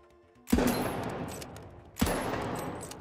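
Two heavy sniper rifle shots in a video game, each a sharp loud crack with a long rolling echoing tail, spaced about a second and a half apart.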